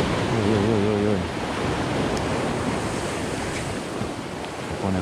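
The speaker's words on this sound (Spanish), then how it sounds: "Se pone fuerte el mar ahora." Rough sea surf roars steadily at sea during a fishing trip, a loud continuous wash of breaking waves and wind buffeting the microphone, with a brief voice at the start.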